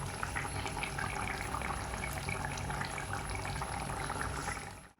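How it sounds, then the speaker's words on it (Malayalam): Coconut oil poured into a simmering fish curry of mackerel in chilli gravy, heard as a steady close liquid pouring and sizzling wash lasting about five seconds before cutting off. "ഇതിലേക്ക് കുറച്ച് വെളിച്ചെണ്ണ ഒഴിച്ച് കൊടുക്കാം"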